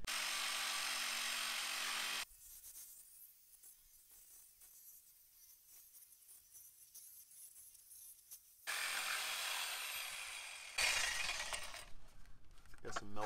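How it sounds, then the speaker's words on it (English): A jigsaw cuts through plastic greenhouse endwall panel, loud buzzing bursts at the start and again near the end with a quieter gap between, ending in rattling, close by. "we're just going to take the jigsaw and try and run this down inside of here and go around and see if we can get that out"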